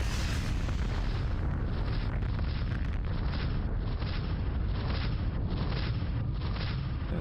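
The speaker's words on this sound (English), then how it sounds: "And we get an in-game explosion." In-game explosion in the space combat game Descent: Freespace: a dense, continuous rumbling roar of blast and debris noise, steady and fairly faint throughout with no talking.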